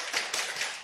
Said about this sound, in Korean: 박수 준비. 박수 2번